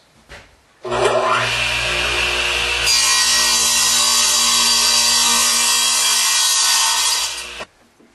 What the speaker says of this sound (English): I'm going to make the cut